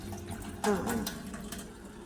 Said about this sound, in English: And then you drain your water off.